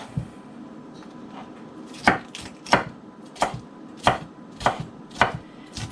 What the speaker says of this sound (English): we're just going to simply cut them down into bite-sized pieces for salads and for chop.